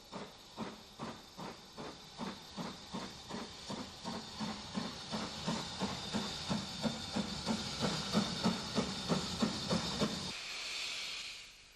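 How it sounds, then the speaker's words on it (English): A steam tank locomotive, number 52, pulls away from York Road station with a train bound for Whitehead, its exhaust beats chuffing in a steady, gradually quickening rhythm over hissing steam, followed by a long release of steam after the beats stop. "264 tank number 52 leaves York Road with a train for Whitehead"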